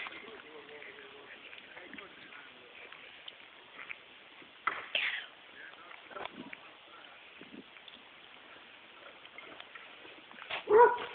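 A big dachshund barks and yips while chasing people outdoors, with a few sharp louder barks near the end; people talk throughout under steady background noise.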